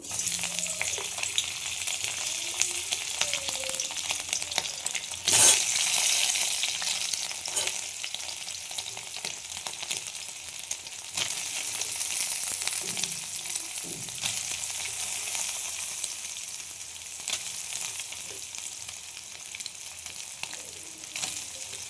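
Soybean chunks fry and get stirred in oil in a wok, a dense, continuous sizzle running throughout with one sharp clatter early on and occasional spoon scrapes; no voices.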